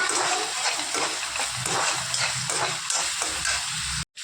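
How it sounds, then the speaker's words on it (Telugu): Sliced onions sizzling steadily in a hot pan for a fish curry, loud and continuous hiss with soft scraping and stirring movements throughout, ending abruptly. "ఉల్లిపాయలు వేసి కలుపుకుందాం."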